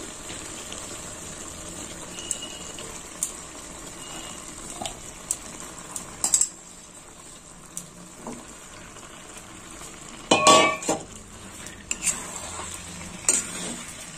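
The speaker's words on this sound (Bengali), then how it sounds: "এবার আমি চিকেনটা দিয়ে দেবো। দিয়ে দিলাম চিকেন।" 800 grams of chicken added to cooked-down spice masala in a pan, a low steady sizzle with occasional scrapes and clatters of stirring, including a louder burst near the end.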